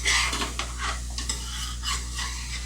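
Onions stir and sauté in a pan for homemade BBQ sauce, a steady sizzle with a spoon scraping and clinking against the pan, continuous and fairly close.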